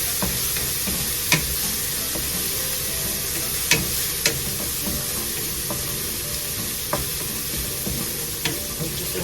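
Garlic sautéing in a pan for a home-cooked igado, a steady sizzle running throughout with a few sharp clicks of stirring utensils scattered over it.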